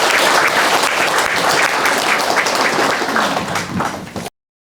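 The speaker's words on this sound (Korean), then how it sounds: "여러분 박수 한번 칠까요?" A room full of people claps together in thick, steady applause at a talk on parent-child relationships, holding at full strength for about four seconds before cutting off abruptly.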